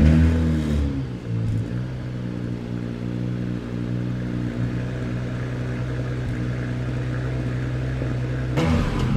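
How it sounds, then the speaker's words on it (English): A Porsche Panamera V6 engine fires up and settles into a steady, loud idle with a deep, even hum, then a brief rise in revs near the end. "let's turn the actual engine on and hear how it sounds"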